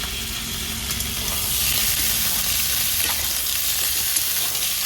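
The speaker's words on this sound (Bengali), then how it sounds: "এই সব সবজিগুলো একটু একটু করে ভাজা হবে, ভালো হবে তাতে।" Pumpkin and drumstick pieces fry in hot oil in a pan, giving a steady, loud, close sizzle with faint stirring and no talking.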